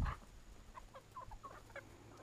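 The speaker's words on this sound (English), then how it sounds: "this is our small flock of egg-laying hens" A small flock of egg-laying hens clucks softly in their coop, a scatter of short, quiet calls at close range against faint background hiss.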